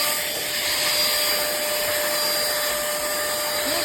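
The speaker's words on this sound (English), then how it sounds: "about to use my new hand vac to clean underneath my couch cushions" A pemacom cordless handheld vacuum runs under couch cushions, giving a loud, steady, close-up whine and whoosh with a constant high motor tone and no speech.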